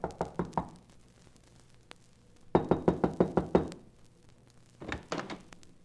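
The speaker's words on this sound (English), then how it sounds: "so there was nothing for me to do except knock." Knuckles rap on a locked wooden shack door in a radio drama: a quick group of four knocks, a pause, then a louder run of about seven firm raps and a final short cluster, close and dry.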